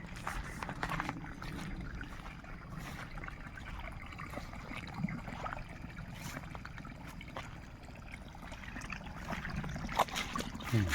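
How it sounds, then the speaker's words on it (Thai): A stream flows steadily along its channel on a small mixed farm, giving a continuous broadband wash of moving water with soft trickling texture at moderate level throughout, no talking. "น้ำไหล"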